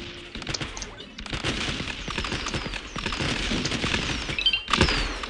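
Gunfire in the platformer game BattleBlock Theater, rapid bursts of sharp shots and thuds in a continuous fusillade, loud and busy with brief gaps, with game effects mixed in.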